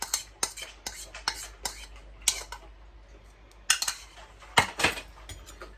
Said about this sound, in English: fold the cheese, the juice and zest and sugar mixture